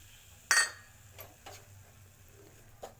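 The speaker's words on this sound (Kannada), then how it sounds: "ರವೆಯನ್ನು ತುಪ್ಪದಲ್ಲಿ ಹುರಿದುಕೊಳ್ಳಿ." Semolina being fried and stirred in ghee for kesari bath, with a sharp utensil clink against the pan followed by a few softer, scattered taps and scrapes at close range, with no voice.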